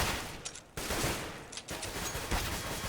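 In a Counter-Strike match on the map Cache, rapid gunfire cracks in quick bursts with sharp repeated shots, loud and close amid busy game noise.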